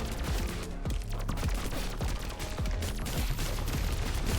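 Rapid, continuous gunfire from shooting in the video game Pathogenic, dense overlapping shots rattling steadily without pause, with no voices present.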